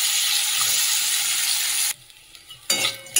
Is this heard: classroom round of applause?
no